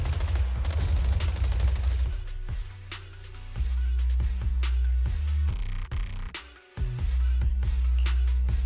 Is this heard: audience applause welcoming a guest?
no